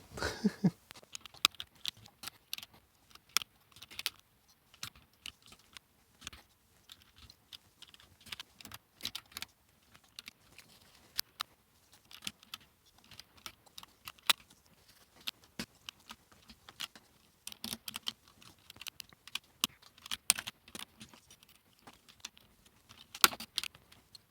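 Sharp plastic clicks and taps from an Amiga 500 keyboard with mechanical switches as its keycaps are clipped back on one after another, an irregular, close, fairly quiet stream of snaps spread over the whole stretch with no talking.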